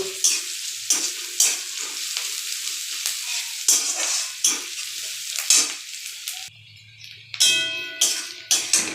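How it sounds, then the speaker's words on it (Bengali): Sliced onion lightly frying in a pan for chole masala, crackling sizzle broken by repeated scraping strokes of a spatula, fairly close and loud, with a brief quieter pause near the end before the stirring resumes. "পেঁয়াজটাকে হালকা একটু ভাজা ভাজা করে নেব"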